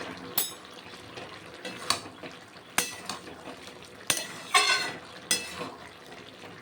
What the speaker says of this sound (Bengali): ভালো করে মিশিয়ে নিচ্ছি গরম মশলার গুঁড়ো।